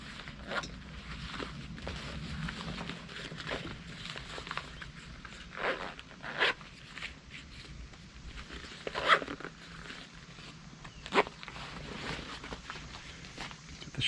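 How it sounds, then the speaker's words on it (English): Hip belt zippers on a Durston Kakwa 40 backpack are worked back and forth in several short, sharp runs with fabric handling in between, close to the mic and without speech. "Hip belt zippers."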